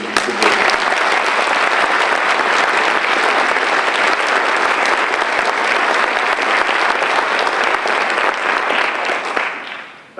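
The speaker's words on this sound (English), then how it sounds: "they deserve a round of your applause for their dedicated efforts attending school board meetings." Loud, sustained audience applause at the ribbon cutting for a new Auburn High School facility, a dense, even wash of clapping for about ten seconds that tapers off at the end.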